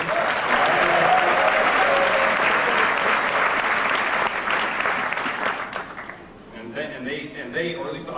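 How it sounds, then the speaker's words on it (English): Applause from the audience at a 1999 Stern School graduation ceremony, a dense sustained clatter of many hands that thins out near the end as a voice begins speaking. "I thank you on their behalf for that applause"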